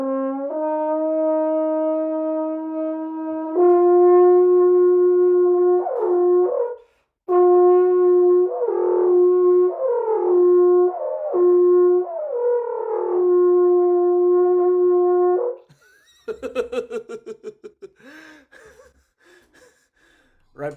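A French horn played with the tongue anchored flat at the bottom of the mouth. Sustained, close tones shift between several pitches, with short breaks between phrases. Quick, breathy gasps and snorts follow at the end.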